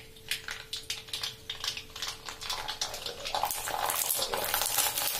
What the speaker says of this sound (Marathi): आता तुम्हाला मी ह्या तेलामध्ये फ्राय करून दाखवते।